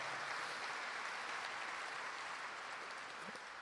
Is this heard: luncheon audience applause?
yes